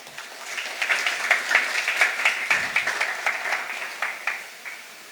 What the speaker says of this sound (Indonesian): Wow, tepuk tangan untuk Tuhan.